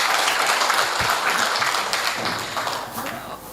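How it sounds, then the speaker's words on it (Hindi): A crowd at a Hindi-Urdu kavi sammelan and mushaira applauds a poet, with dense, sustained clapping throughout that eases slightly toward the end as voices mix in. "एक बार तालियों से स्वागत करें"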